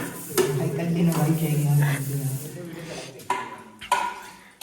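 Dishes and utensils being washed by hand in a kitchen on a trip to Shimla. Scraping and clinking of metal pots and cutlery over running water, close by, with a few sharper clanks and people talking.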